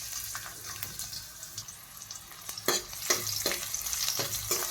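Ginger, garlic and green chilli frying in oil in a wok make a soft sizzle with scattered crackles and stirring scrapes, quiet and close, growing busier toward the end.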